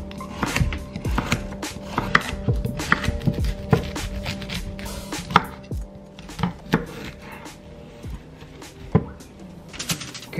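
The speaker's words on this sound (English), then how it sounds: "I've just chopped up some broccoli florets and some good bright orange organic carrots" Knife chopping broccoli florets and bright orange organic carrots on a board, a close series of sharp, irregular cuts and thuds in bursts over a quiet room, with no speech.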